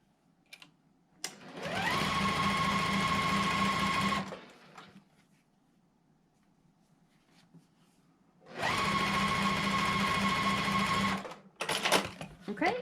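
A sewing machine stitches navy and white quilt block pieces together in two steady runs of about three seconds each, separated by a quiet pause, with faint handling sounds between.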